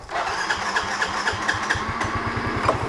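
A motorcycle engine kick-started on the first kick catches and idles with a rapid, steady putter, close and fairly loud, with no voices.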